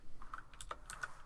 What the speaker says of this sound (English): I will type in